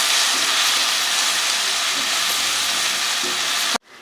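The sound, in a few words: garlic, mint and curry leaves frying in oil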